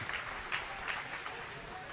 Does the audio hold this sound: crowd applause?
yes